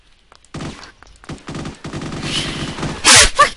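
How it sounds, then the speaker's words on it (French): Rapid M4 automatic rifle fire in the video game Critical Strike, bursts of gunshots rattling loudly over about three seconds with a sharp, heavier crack near the end. "Le bruit de la M4."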